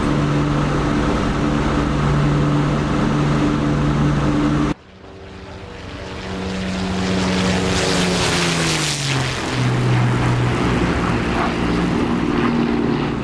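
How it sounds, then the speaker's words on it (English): Steady propeller drone of a de Havilland Mosquito twin-engine aircraft in flight in the DCS World simulator, a loud continuous engine hum whose tone shifts and drops in pitch as the view changes, with no talk. "fully airborne and established in our Mosquito here"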